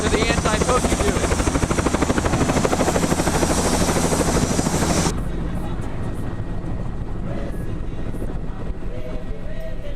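A tour operator's helicopter used by an anti-poaching unit near Victoria Falls, Zimbabwe, gives a loud, rapid rotor chop with a steady engine whine, close and continuous, then the sound turns duller and more muffled halfway through.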